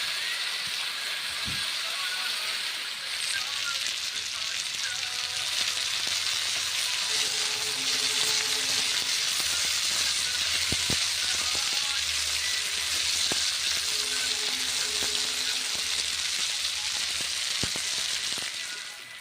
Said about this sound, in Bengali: খুন্তি করে নেড়ে চেড়ে ভেজে নিচ্ছি কুমড়ো ভাজা।